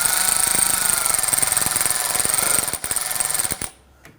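A power tool whirs and rattles steadily as bolts are snugged down on a 2009-2017 Volvo XC60 during crankshaft position sensor work, close and loud, then winds down and stops near the end.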